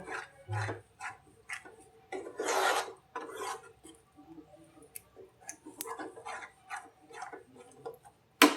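Spoon stirring a thick gram-flour mixture cooking in a pan for surani vadi, giving repeated soft scraping and rasping strokes in an uneven rhythm, close and fairly quiet, with occasional light ticks.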